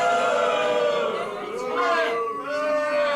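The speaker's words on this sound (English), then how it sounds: "Go back and once again introduce Lincoln Riley and then hold for reaction from the crowd" Live audience at a college football podcast's fantasy draft event in Chicago reacts to an introduction with a mix of whoops, cheers and chatter, fairly loud and rising and falling in waves.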